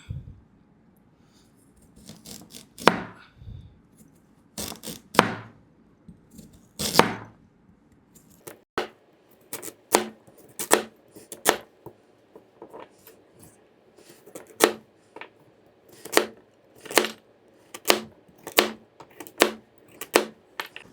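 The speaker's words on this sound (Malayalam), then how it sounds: "ഇനി നമുക്കിത് ചെറിയ ചെറിയ കഷ്ണങ്ങളാക്കി കട്ട് ചെയ്തെടുക്കണം." Carrots chopped into small pieces with a knife on a board, a series of sharp, close knocks, sparse at first then coming quicker and more regularly.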